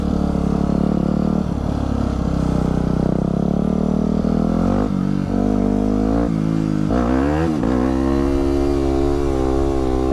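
A motorcycle holds a wheelie, its engine droning loud and close with repeated rises and dips in revs as the throttle works. No one speaks.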